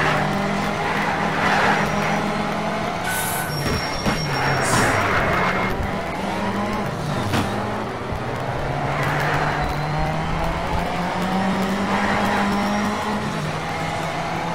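Ford Escort race car in the racing game Need for Speed Shift, engine droning loud and steady for the whole stretch, revs rising and dipping through gear changes, with occasional brief tire squeals and skids.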